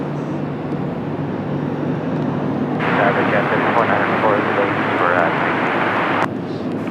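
An Emirates airliner takes off from runway 30 at Washington Dulles on a cloudy day, a steady distant engine rumble that swells brighter and louder in the middle before settling back.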